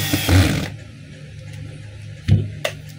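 A power tool drives four screws to fasten a cord protector, a steady motor drone running close throughout with a couple of brief, sharper bursts as the screws are tightened.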